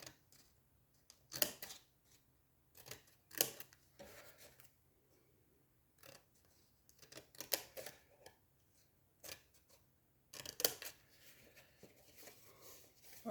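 Scissors snip a small piece from a cardboard staircase box, with several short, quiet cutting and rustling bursts separated by near silence, close to the listener.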